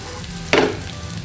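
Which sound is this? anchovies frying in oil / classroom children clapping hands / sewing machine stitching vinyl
anchovies frying in oil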